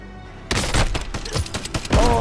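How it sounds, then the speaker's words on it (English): Rapid shotgun fire in a video game, a burst of loud, sharp blasts in quick succession after a quiet opening, with a final heavy shot at the end. "he's got that new bloody shotgun"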